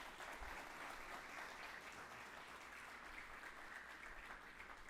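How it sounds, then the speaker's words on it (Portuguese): A congregation at a church service claps together in steady, sustained applause, a dense crackle of many hands filling the room without pause. "Você pode aplaudir o Senhor aqui para ficar mais gostoso?"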